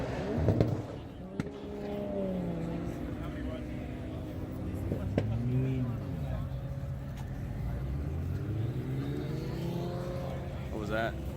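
A Porsche race car at a half-mile shootout event makes a rising engine and turbo whine that sweeps up and down in pitch over several seconds, heard at a distance amid crowd chatter and voices.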